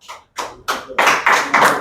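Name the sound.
classroom clapping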